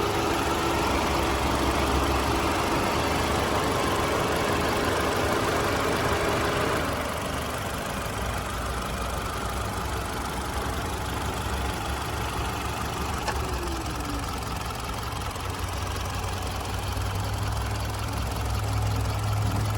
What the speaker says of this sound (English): I do have the car running at the moment as well